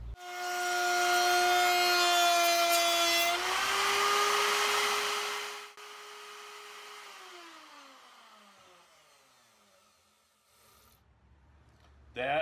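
A router table cutter shapes the edge of a wood piece, a loud high motor whine with rough cutting noise for a few seconds, then the bit spins down in a long falling tone to near quiet before a brief clunk.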